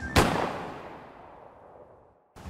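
A single gunshot in GTA 5 roleplay, one sharp loud crack with a long rumbling echo that fades over two seconds, followed by the start of another burst at the very end.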